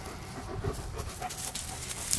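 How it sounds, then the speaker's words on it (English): A German Shepherd pants in quick, soft, rhythmic breaths close to the microphone, steady and fairly faint with no speech over it. "What a good dog."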